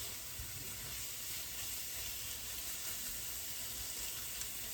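Oregano, cumin, garlic and onion toast in a hot pan, a steady soft sizzle and hiss that stays even throughout with no voices.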